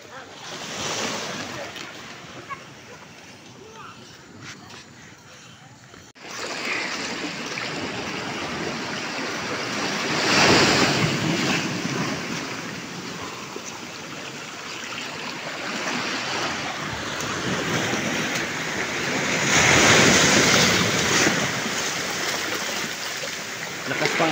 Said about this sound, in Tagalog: Lakas pa alon